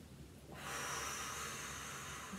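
Slow, deep breath drawn in through the nose during a belly breathing exercise, a faint hiss after a brief silence, steady and close.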